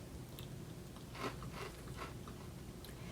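Frozen Nesquik cereal is eaten dry, with several close, crisp crunches over a few seconds of chewing against a faint steady background hiss.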